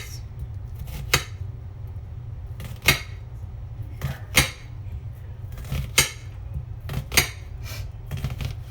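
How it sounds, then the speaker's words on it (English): A kitchen knife chops through an onion on a cutting board, giving about seven sharp, evenly spaced taps close by over a low steady hum, with no talking. "And then after you slice it this way a few times. And then slice it down."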